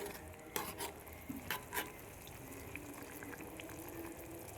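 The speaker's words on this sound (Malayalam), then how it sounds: "ഇനി നമുക്കിതൊക്കെ കൂടി നന്നായിട്ടൊന്ന് മിക്സ് ചെയ്യാം" Thick mackerel fish curry masala is stirred in a pan, a few quick scraping strokes early on over a low, continuous simmering bubble, fairly quiet and without talk.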